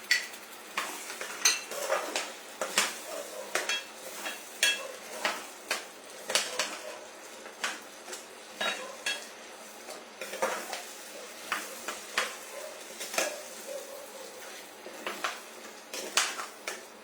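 Pre-made spice paste added to a pan of paneer makhani and stirred, a near, regular series of scraping and clinking spoon strokes against the pan over a faint sizzle.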